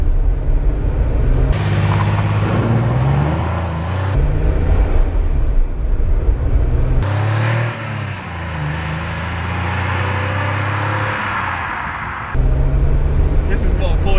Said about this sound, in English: This is what a Porsche looks like when it's working.